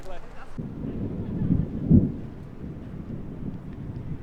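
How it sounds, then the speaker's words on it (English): Low rumbling thunder from a storm over the Romanian countryside, swelling to a soft peak near the middle before fading into a steady murmur, faint and distant under light background noise. "Thunder."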